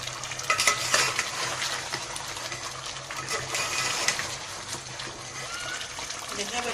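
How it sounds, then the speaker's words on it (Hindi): Boiled paya (goat or beef trotters) being stirred with masala in a frying pan, a steady sizzle and scraping stir with wet bubbling, close up, with some speech over it. "अब हम इसकी बुनाई करेंगे मसाला डालकर।"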